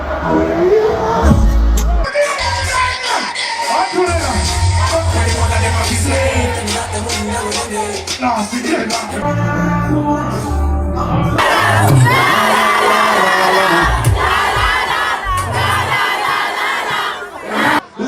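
A huge crowd at a concert in SoFi Stadium roars and chants loudly and continuously, with swells of shouting and cheering over booming low music.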